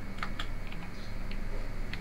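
Keystrokes on a computer keyboard while a search is typed into a browser, sounding as a few scattered, quiet clicks over a steady background hiss with no voices.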